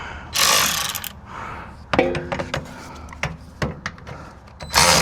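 Bolts on a GMC Canyon bump stop are tightened with a hand tool, giving rapid ratcheting clicks in short bursts, close and loud, with clanks and brief handling noises between them.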